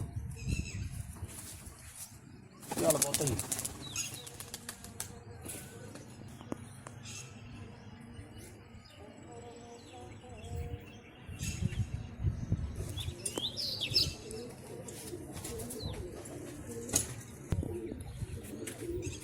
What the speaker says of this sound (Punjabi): ਆ ਕਬੂਤਰ ਛੱਡਦੇ ਆ ਜੀ